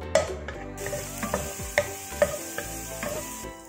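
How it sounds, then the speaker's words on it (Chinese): Minced garlic frying in a little oil in a wok gives a steady sizzle, broken by a few spatula knocks and scrapes, with light tonal music underneath. "锅中下少许油，倒入蒜末炒出香味"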